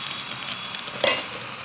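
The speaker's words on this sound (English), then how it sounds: "As you see, the water is boiling, so I will lower the temperature and cover the pot." Water boils in a covered cooking pot for stuffed grape leaves, a continuous bubbling sizzle near and steady, with a brief metallic clink partway through.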